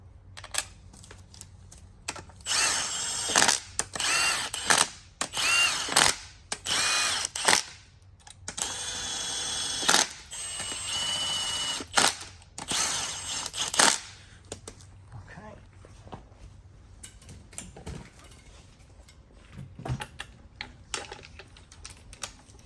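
Hand ratchet clicking in bursts while tightening six hold-down bolts on a Mercedes-Benz M276 V8 engine during timing work, close and fairly loud, with quiet pauses between bolts.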